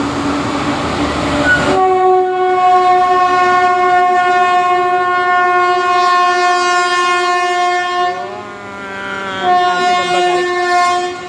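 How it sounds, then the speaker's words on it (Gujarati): A train horn sounds loudly and continuously for several seconds, its pitch wavering and dipping partway through as the train moves past through Derol station. "હવે રેલવે આવી જશે સ્ટેશન"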